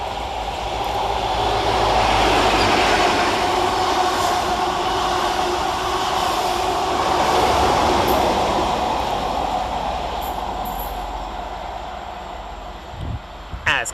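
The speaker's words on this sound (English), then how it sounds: "Coming off the 4th rail bridge is 43132 and 43145, working 1 Alpha 55 from Edinburgh Waverley to Aberdeen via Lucas." Class 43 power cars 43132 and 43145 roll off the Forth rail bridge on an Edinburgh Waverley to Aberdeen express, a loud steady rumble of engines and wheels sustained throughout, easing slightly near the end.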